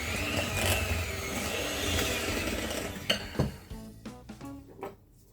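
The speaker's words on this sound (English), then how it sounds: "And I'm going to mix this well." Cookie dough with lemon juice and one egg being mixed in a bowl, a steady scraping churn for about three seconds, then a few separate knocks and clinks of utensil against the bowl, fairly close, no talk.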